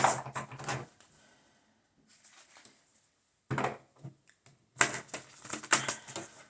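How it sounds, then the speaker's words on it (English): A tarot deck is shuffled by hand, quiet bursts of riffling card flicks and soft slaps in uneven clusters separated by pauses, close and without talk. "I'll give it another shuffle in front of the camera"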